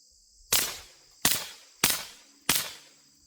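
Four suppressed .22 gunshots from a Taurus TX22 pistol fitted with a Dead Air Mask suppressor, sharp muted cracks evenly spaced about two-thirds of a second apart, close and fairly loud, each with a short decaying tail.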